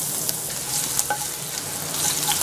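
Finely chopped ginger fries in hot oil with cumin, mustard seeds and chana dal for a hotel-style puri masala, a loud, steady sizzling crackle with faint stirring and no voices.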